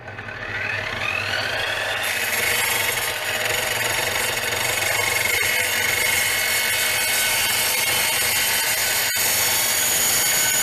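A GTM miter saw set to a 15-degree angle spins up with a rising whine and then cuts through clamped wood, giving a loud, sustained high-pitched motor and blade drone.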